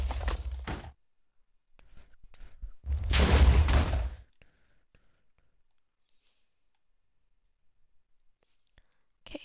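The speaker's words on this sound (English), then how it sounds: "Still TNT exploding over here." TNT explodes in a video game as two loud, noisy bursts a few seconds apart, followed by near silence with faint scattered clicks.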